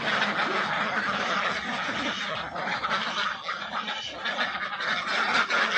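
A flock of ducks quacks continuously at feeding time, a dense, overlapping chatter held at a steady loudness and fairly close, with no talk over it.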